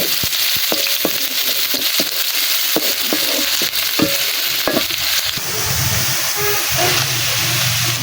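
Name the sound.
garlic and onion frying in hot oil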